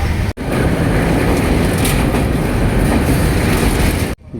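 Train 12357 Durg on the Kolkata to Amritsar route rolls along the rails with a loud, constant rumble and rhythmic clatter, heard from inside a general coach, broken by a brief dip early on and cut off at the end.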